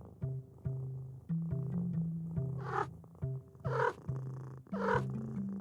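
A domestic cat purrs close by indoors, a steady low rumbling that pulses in rhythm over several seconds, with a few brief breathy bursts layered on top.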